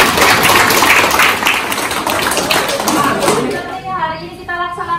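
A classroom of vocational chemistry students breaks into dense, loud applause, many hands clapping at once in a sustained roar before it thins and voices take over.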